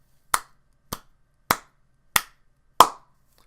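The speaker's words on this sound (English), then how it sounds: "Slow clap for you, Onision." Five slow, evenly spaced hand claps ring out crisply, each a sharp isolated smack followed by silence, close and alone.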